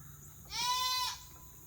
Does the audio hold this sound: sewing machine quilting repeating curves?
no